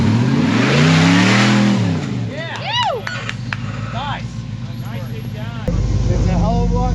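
An off-road rig's engine roars at full throttle over an obstacle, swelling loudly at the start and then dropping into rough revving bursts and rumble, with wavering whines and someone speaking over the noise.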